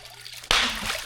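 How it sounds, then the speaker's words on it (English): A hand slaps the water surface once at a beaver trapping spot, a sudden loud splash that breaks a low outdoor hiss and trails off in sloshing spray. "going to slap the water, see how loud he can get it"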